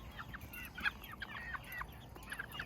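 Several chickens cluck softly as they come out of their coop, a rapid overlapping chatter of short calls heard at moderate distance over a faint background.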